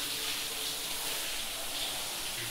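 A campsite shower runs in a bathroom at a motorhome park in Roses, Catalonia, giving a steady, even hiss of spraying water that stays constant throughout, with no voices.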